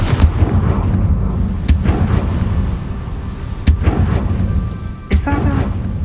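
Spell explosions from the Confringo fire spell in Hogwarts Legacy, several sharp booming blasts over a dense rumbling game background, with a voice speaking.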